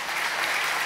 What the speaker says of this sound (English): give him praise and a clap offering in Jesus' name